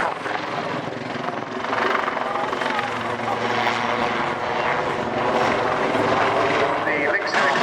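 A Lynx helicopter roars loudly and steadily during aerobatic manoeuvres at an airshow, rotor and engine noise filling the air while someone talks over it.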